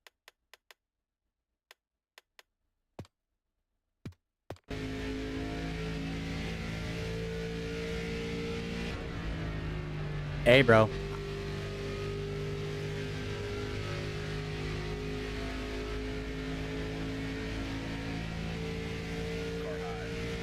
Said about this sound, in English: I just want to turn up the AI cars a little bit. They're a little hard to hear.